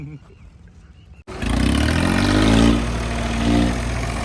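Swaraj tractors, two hitched together to pull a heavily loaded trolley stuck in soil, start up with a sudden loud diesel rumble that settles into a steady, close engine drone with slight surges, under a man's speech.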